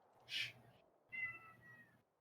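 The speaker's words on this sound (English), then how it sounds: "She's currently meowing at me." A pet cat meows near a microphone during an online strategy game session, giving a short sharp meow and then a longer, drawn-out one, fairly quiet against a low background hum.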